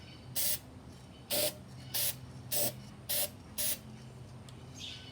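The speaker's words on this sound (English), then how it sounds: "and then we're gonna spray in." Looking glass spray paint sprays from an aerosol can onto a candleholder in six short, sharp hissing bursts at an even rhythm, close and clear against a quiet room.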